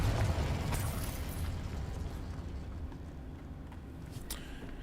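In a video game, the Confringo blasting spell goes off with a loud burst and a rumbling blast that slowly fades, with a couple of faint crackles near the end.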